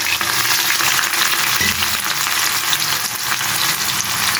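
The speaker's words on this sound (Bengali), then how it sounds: "ডালটা বাগার দিব তো তেল গরম দিয়ে দিয়েছি শুকনো মরিচ দিয়ে দিলাম" Dry red chillies crackle and sizzle in hot oil while tempering dal, a dense, steady, loud frying hiss close by that holds without a break and with no talking.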